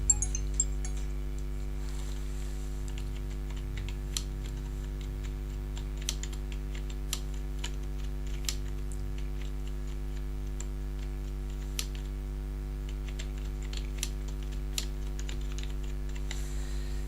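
Sparse keystrokes on a computer keyboard while entering narration for a debit note entry in Tally, spaced a second or two apart, sitting faintly over a steady electrical hum.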